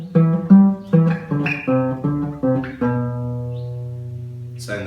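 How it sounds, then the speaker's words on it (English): Guitar picking out the second part of an iconic riff, a run of about eight distinct plucked notes in a halting rhythm, the last one left ringing, played alone and close. "So, second part of the guitar riff."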